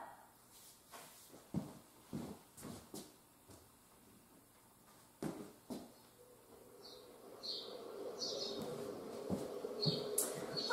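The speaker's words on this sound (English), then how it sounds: "I hear some beautiful birds chirping" Sparse chirps and short calls from small birds outdoors, scattered at first, then a busier run of higher twitters with faint background noise.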